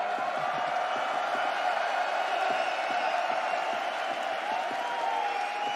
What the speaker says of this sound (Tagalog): Carrigan, this crowd loves you.